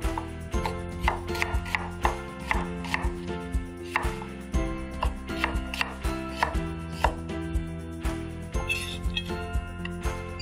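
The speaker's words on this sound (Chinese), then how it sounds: "刚刚雨辰在这个切洋葱丝的时候" A knife slices an onion into strips on a cutting board, making a steady, rapid series of crisp chopping taps, close up, with no voices.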